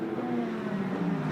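IMSA sports race cars at speed at Daytona International Speedway, a steady, loud engine drone with a continuous mid-range roar and no voices.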